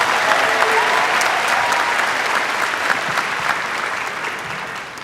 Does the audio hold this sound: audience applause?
yes